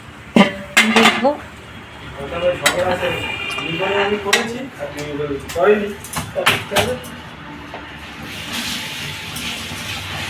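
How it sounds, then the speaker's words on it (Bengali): A metal pan lid lifts off during cabbage roll cooking, with several sharp clanks and scrapes of cookware scattered among a person talking nearby, then a soft hiss of steam toward the end. "এবার ঢাকনা খুলে দেখবো।"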